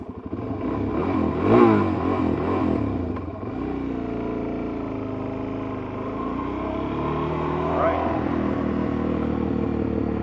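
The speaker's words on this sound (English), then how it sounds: "I'm just going to kick back and enjoy the sounds of backfire" A motorcycle engine revs on a mountain ride, its steady throbbing drone swelling and easing with a couple of louder bursts near the start and again later, close and continuous throughout.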